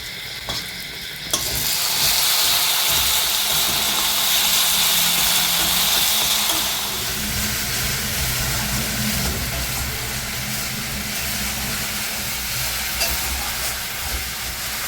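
Spices, turmeric powder and salt among them, stirred slowly in a hot frying pan: loud steady sizzling with scraping stir strokes, rising at the start and then settling into a softer continuous fry, with no voices.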